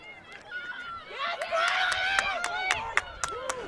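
Crowd at a Lenoir-Rhyne women's soccer match erupts after the 1-1 equalizer against Tusculum, a busy wash of cheering voices and whistles with scattered claps, rising and staying loud throughout.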